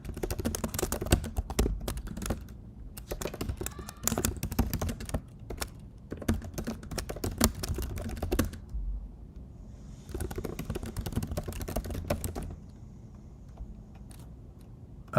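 Clattering bursts of typing on a nearby computer keyboard, with quick, loud runs of keystrokes broken by short pauses. Near the end the typing thins to a few scattered taps.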